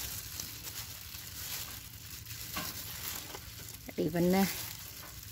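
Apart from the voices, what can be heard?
stirring scallion kimchi in a pan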